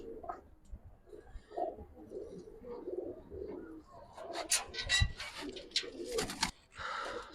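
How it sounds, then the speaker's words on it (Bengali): A Giribaz pigeon cooing in a cage, a series of soft, low coos up close, with some rustling and sharper bursts of noise toward the end. "খাঁচা রাখার পর দেখেন ডাকে কি সুন্দর"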